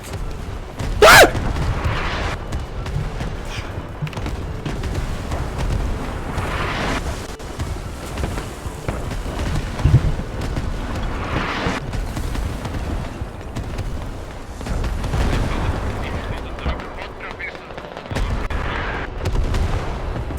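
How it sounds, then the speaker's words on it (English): Artillery airstrike explosions in the game Squad boom and rumble in a long, heavy barrage, with a few sharp loud impacts standing out over continuous low roaring and wind-like noise. "Devastating airstrike indeed."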